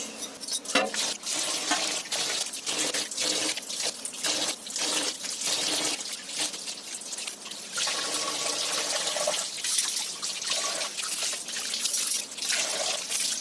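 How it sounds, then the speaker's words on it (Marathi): Cold water splashes and trickles steadily over goat intestines being washed by hand, a continuous close running-water sound broken by wet squelches and drips. "पहिली थंड पाण्याने चांगली स्वच्छ धुवून घेते"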